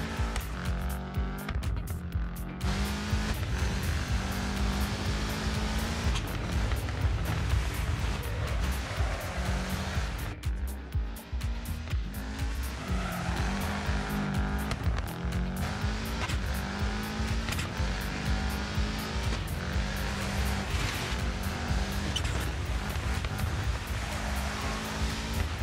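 A rally car in the racing game WRC slides around a hairpin, its engine droning loud and close and rising and falling with the revs while the tyres hiss and squeal through the slide.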